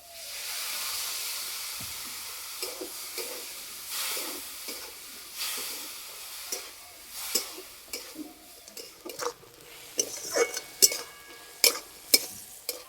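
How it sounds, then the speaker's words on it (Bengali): Cauliflower cooking in a pan with salt, ground spices and a little water, a steady steam hiss fading under a run of sharp stirring scrapes and pan knocks that grow louder and more frequent, with no voices. "এইভাবে নাড়াচাড়া করে কপিটা সিদ্ধ করে নিয়েছি"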